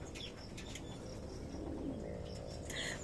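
Pet pigeons cooing softly in a backyard coop covered by netting, a few low, murmuring coos and faint chirps over steady background hiss.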